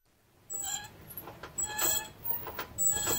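A car's brakes with worn pads give intermittent high, thin squeals mixed with scraping, close and fairly quiet, starting after a brief silence.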